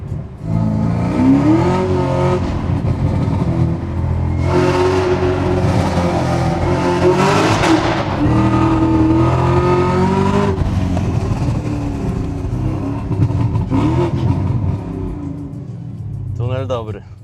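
A 700 hp Chevrolet Camaro ZL1 engine revs loudly while driving, with repeated surging rises and falls in pitch and a deep rumble throughout; someone talks over it.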